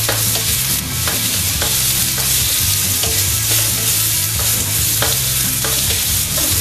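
Pork frying in a hot pan for thrice-cooked pork is stirred steadily, a loud, continuous sizzle broken by regular scraping strokes of the utensil, close up and with no one speaking.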